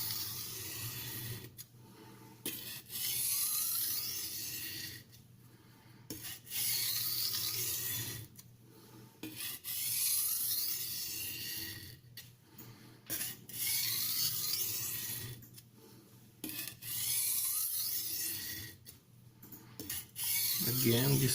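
A Tramontina Professional kitchen knife is stroked along a full 10-inch vintage Niles silicon carbide stone, giving a steady close-up gritty rasp in long passes of a few seconds each, separated by short pauses.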